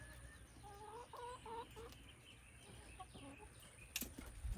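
Several young chickens cluck in short rhythmic phrases nearby, with rustling and a brief flap or scuffle toward the end.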